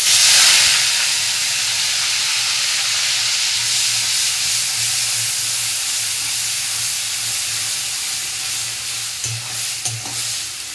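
Onion paste hits hot oil in a pan with cinnamon and cloves, giving a loud, dense close sizzle that settles into steady frying hiss with occasional stirring clicks.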